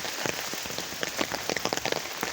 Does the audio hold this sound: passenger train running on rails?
no